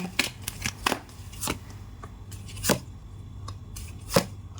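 Oracle cards are shuffled by hand, sharp papery slaps and riffles arriving in a loose, uneven rhythm close to the microphone.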